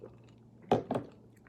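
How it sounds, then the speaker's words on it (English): Ice is chewed near the microphone in two quick, loud crunches close together, followed by quiet with no talking. "Sorry, I'm chewing on some ice here"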